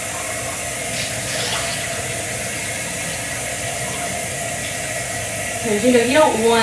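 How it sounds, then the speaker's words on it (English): Tap water runs steadily while a mug is rinsed, a continuous close hiss with a brief splashier swell near the end, under a person talking. "let me rinse this mug because I don't want to use the same one over"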